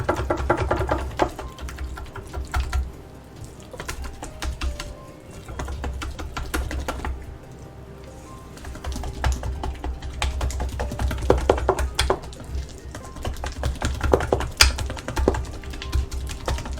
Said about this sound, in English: using coated whisk with metal bowl so we don't get gray looking mayonnaise